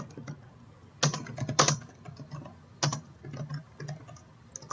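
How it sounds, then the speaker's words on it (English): Typing on a computer keyboard in Realm of the Mad God, bursts of clattering key presses with short pauses, fairly close and prominent against faint game background. "What are you typing, honestly?"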